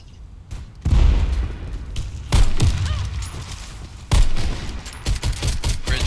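Video game gunfire during a match at a bridge: several loud, close bursts of rapid shots and booming blasts, separated by short lulls.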